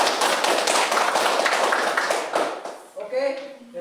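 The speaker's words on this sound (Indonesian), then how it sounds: "Ayo, tepuk tangan sekali lagi." Schoolchildren in a primary school classroom clapping hands together in a dense, steady burst of applause that fades after a few seconds, followed by voices talking.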